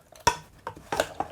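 A spoon stirs tagine ingredients with chopped tinned tomatoes in a pot, giving four quick, close scraping clinks against the pot with quiet gaps between them.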